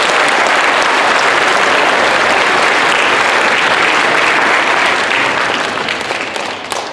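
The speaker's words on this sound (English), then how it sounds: "How about a round of applause for you?" A large audience at a school Veterans Day assembly applauds loudly and steadily, a dense wash of clapping filling the room that carries on throughout before starting to thin out near the end.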